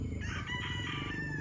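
A fighting rooster crows loudly and close while a person holds it, the drawn-out call strained and continuous with no voices over it.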